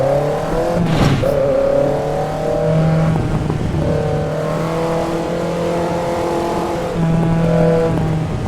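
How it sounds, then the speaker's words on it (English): Toyota AE86 with a 20-valve engine in the racing game Assetto Corsa Evo, a continuous loud engine note that rises and falls through revs with crackling overrun as the throttle lifts, no talking. "Oh, I love the overrun sound."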